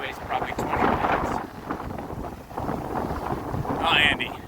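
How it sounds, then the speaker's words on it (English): Blustery wind at the beach buffets the microphone in steady roaring gusts, loud and close, with a rush of surf-like noise and a slight lull midway. "Nice and windy as usual down here"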